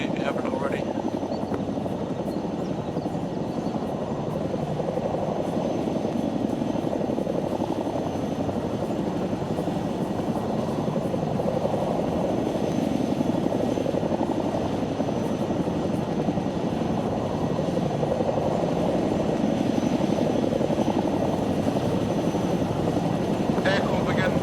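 A military video game helicopter keeps up a loud, constant roar of engine and rotor wash from start to finish. Players talk over it on radio throughout.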